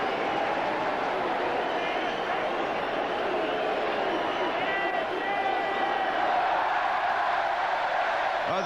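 Stadium crowd at a 1990 Hong Kong Sevens rugby match cheering and roaring loudly and steadily throughout, with a dense wash of shouting and whoops that swells slightly near the end.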